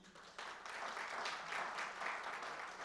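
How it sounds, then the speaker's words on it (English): Audience applause at a World Poetry Day event in Jamaica, a short burst of steady clapping from a crowd, fairly distant and soft, with no voices over it. "I want another round of applause, not just for the vote of thanks, but for the hard work that he does"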